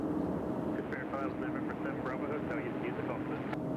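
An airliner taking off from runway 2 right at Nashville International Airport gives a distant, steady engine roar, faint under a thin layer of background noise, with no talk.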